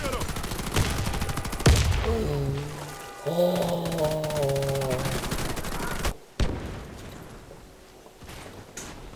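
Rapid bursts of automatic gunfire from the Warface video game shooter ring out close and loud, broken by pauses, with someone talking over much of the action.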